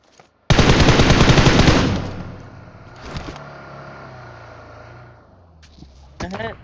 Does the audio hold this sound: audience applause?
no